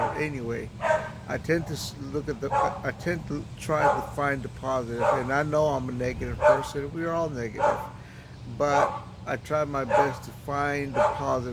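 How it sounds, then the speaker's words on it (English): A household dog barks repeatedly in the background, sharp yips and whimpering bursts recurring irregularly under continuous close conversational speech. "I'm sorry for the dog. It always barks."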